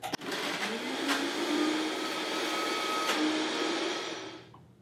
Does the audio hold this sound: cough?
no